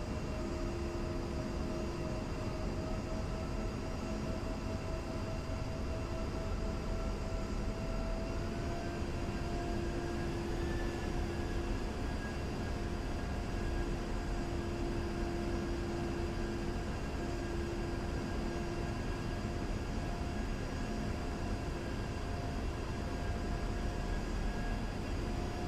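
Aircraft engine hum from the DCS World flight simulator game during a runway landing approach, a steady droning whine with a rising tone midway, no voices.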